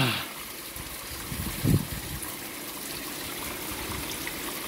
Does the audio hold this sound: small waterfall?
yes